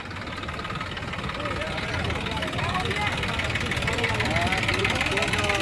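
A tractor engine idles at a pea vegetable market, a steady mid-pitched rumble running throughout under lively crowd chatter and nearby talking.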